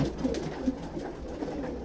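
Racing pigeons in a farm loft coo softly and steadily, a low, close murmur of overlapping calls with no talking.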